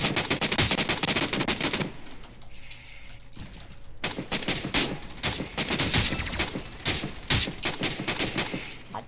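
Dense automatic gunfire in the battle-royale game Rules of Survival: rapid, loud bursts crackle almost continuously, with a short lull before heavy firing resumes to the end.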